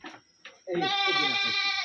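A goat bleats loudly and at length, a wavering nasal cry, after a few brief softer sounds at the start.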